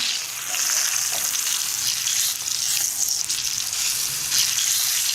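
Eggplant pieces shallow-frying in a pan until halfway done and browned give a dense, loud, unbroken hissing sizzle that holds steady throughout, close up and without talk.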